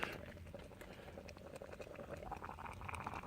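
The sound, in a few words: water boiling on alcohol camp stove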